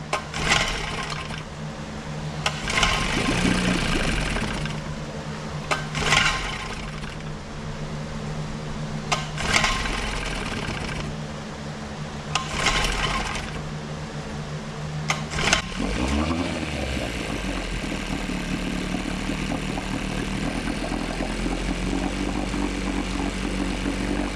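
A 1950s Johnson 5.5 HP outboard motor is pulled over several times in a rhythmic series of rasping cranks, then catches and settles into a continuous buzzing run.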